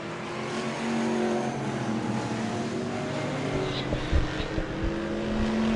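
Vintage race cars roaring around Merrittville Speedway during a feature race, several engines droning steadily at once with pitch sweeps as cars pass, loud and continuous without pause.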